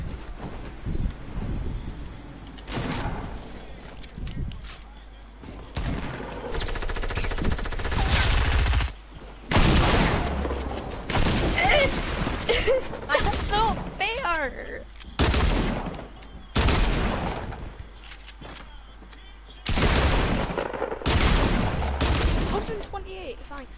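Rapid, loud bursts of Fortnite gunfire, including double-barrel shotgun blasts, crack in clustered volleys during a close fight, with stretches of quieter background and voices talking between shots.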